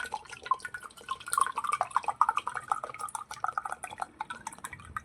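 Coconut water pours into a glass from a freshly opened coconut, giving a steady run of close, bright trickling and dripping splashes for several seconds, with no talk over it.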